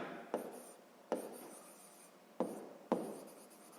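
Hand writing of a sixth-grade math solution on paper, four separate scratchy pen strokes at uneven intervals, close and quiet with no voice.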